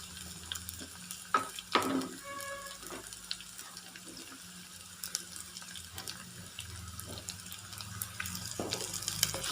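Sliced small shallots sauté in a pan for a Kerala-style moru curry, giving a soft, faint sizzle with a few scattered clinks of stirring.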